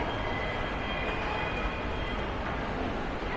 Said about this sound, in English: Nous allons prendre le train.